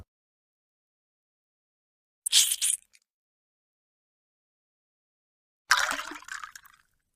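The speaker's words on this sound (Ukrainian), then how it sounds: "У першу пробірку наливаємо декілька мілілітрів розчину натрій сульфату" Two short bursts of sodium sulfate solution pouring into a test tube, the second longer and trickling off, with silence between them.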